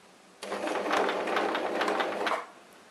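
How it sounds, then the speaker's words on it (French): A sewing machine runs steadily for about two seconds, its rapid rhythmic stitching through fabric close and clear, starting and stopping abruptly with the pedal, no voices. "vous appuyez doucement sur la pédale que je vous ai présentée tout à l'heure et vous guidez votre tissu"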